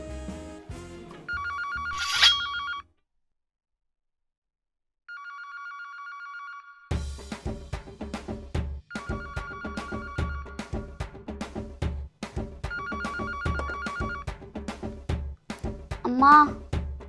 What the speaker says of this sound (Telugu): Dolly phone.